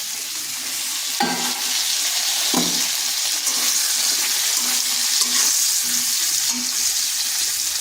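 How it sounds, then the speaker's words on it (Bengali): Soya chunks and ivy gourd fry in a hot pan, a continuous loud sizzle broken by a couple of sharp spatula scrapes as the pieces are stirred around. "কুঁদরি আর সয়াবিনটা একটু ভেজে নেব"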